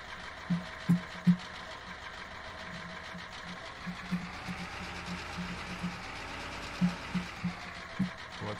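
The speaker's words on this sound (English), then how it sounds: "And then we're on to this K3500. It is a little loud." A GMC K3500 pickup truck engine in Farming Simulator 2015 idles and runs with a steady, moderately loud droning hum. Irregular low knocks and thumps sound at intervals, and no voices are heard.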